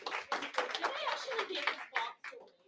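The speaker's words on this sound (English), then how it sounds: "now round of applause. Round of applause" A small gathering at a club meeting claps briefly, a sparse, close-up patter of a few hands with uneven claps, mixed with chuckling and chatter among the people present.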